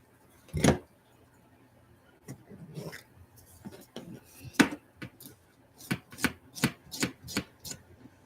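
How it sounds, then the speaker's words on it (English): Small, close scraping and clicking strokes removing a burr from a very thin plastic part of a model railway boxcar, irregular at first, then a quicker run of short, crisp scrapes. "I'm trying to remove the little burr off this plastic, which is already really thin"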